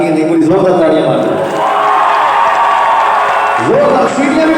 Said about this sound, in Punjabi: ਕੋਈ ਜ਼ੋਰਦਾਰ ਤਾੜੀਆਂ ਮਾਰੋ